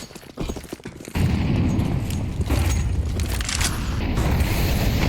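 Gunfire rings out in a Counter-Strike professional match on the Nuke map, including a sniper rifle shot. A loud burst of shots and booms begins about a second in and continues densely to the end.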